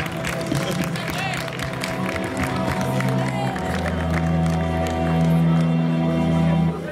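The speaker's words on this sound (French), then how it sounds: "On peut l'applaudir très fort." An audience at a French film event applauds loudly with some cheering and whoops. Tonal, music-like sounds run underneath, and the clapping swells toward the end.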